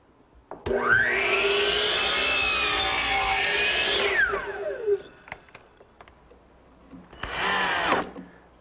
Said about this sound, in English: it's short enough that I can actually use my miter box if I make a jig